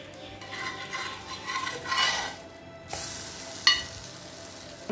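French toast, sweet bread dipped in egg, frying in a pan over low heat, a soft sizzle with scraping and light clinks of a utensil against the pan, quiet and close.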